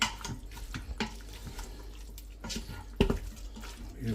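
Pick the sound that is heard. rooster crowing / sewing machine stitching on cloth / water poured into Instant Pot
water poured into Instant Pot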